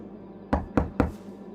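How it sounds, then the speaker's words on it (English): Three quick, sharp knocks on a character's door in the video game Rue Valley, evenly spaced and close, over a quiet steady background hum. "I'm just going to go knock on this guy's door"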